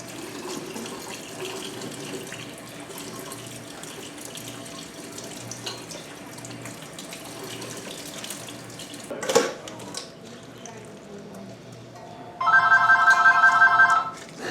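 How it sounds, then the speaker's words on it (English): Tap water running steadily into a sink while salted cucumbers and onions are rinsed, a moderate continuous splash with a brief clunk midway and a ringing phone chiming near the end. "So I have to rinse the salt water off."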